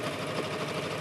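A Singer sewing machine stitches along a T-shirt hem, giving a steady, close, dense mechanical whir that runs without a break and with no voices.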